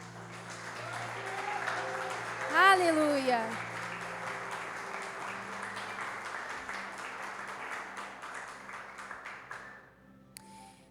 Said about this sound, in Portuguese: Dá um aplauso aí para o Senhor, só para acordar.